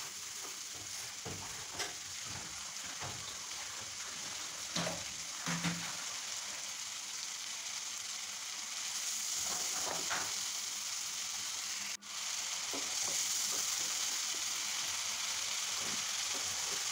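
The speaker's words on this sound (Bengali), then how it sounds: "এখন একটু হলুদ দিয়ে আমি মাছটাকে প্রথমে ভেজে নেব।" Shrimp with turmeric frying in a pan, a steady broad sizzle with occasional stirring scrapes, close and continuous, with no talking.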